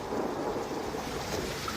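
Thunder rumbling in a night storm as a horror story sound effect, a low, steady, distant roll with a faint windy, rain-like wash, quiet overall.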